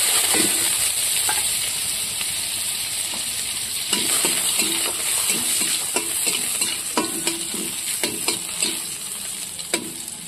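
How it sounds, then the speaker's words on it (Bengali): Radhuni seeds and crushed garlic tempering in hot oil for helencha greens, a loud continuous crackling sizzle with repeated spatula scrapes and taps against the pan, no one speaking. "তার জন্য ফোড়ন দিয়ে দেবো রাঁধুনি। আর এখানে থেতো করে নেওয়া হয়েছে রসুন"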